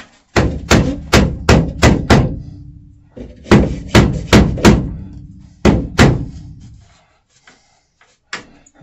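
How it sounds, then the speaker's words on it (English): A ball peen hammer strikes repeatedly during plumbing work in a studio apartment, loud sharp blows in quick bursts of five or six, pausing between sets, with one last isolated hit. "Just the old, you know, ball peen hammer."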